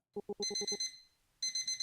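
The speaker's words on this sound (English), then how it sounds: "The alarm cuts through our banter, its ring making me wince." Alarm clock ringing in the Witch's Bound video game, loud repeated electronic beep bursts in a quick rhythm, a short pause, then the ringing resumes.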